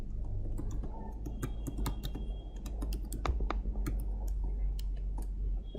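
Rapid, irregular clicks of someone typing a password on a computer keyboard, close and fairly steady over a low background hum, with no talking.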